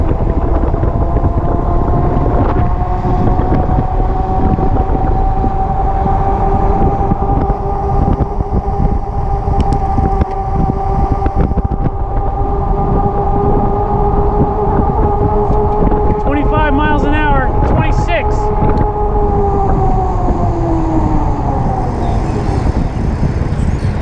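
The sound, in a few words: Biktrix Juggernaut HD electric bike riding under throttle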